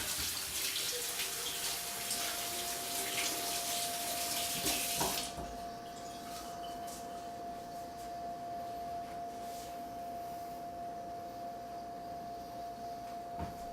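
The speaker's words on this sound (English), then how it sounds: "Give our hands a rinse." Tap water runs steadily into a sink as hands are rinsed, a loud broadband splash that drops to a quieter flow about halfway through, with no speech.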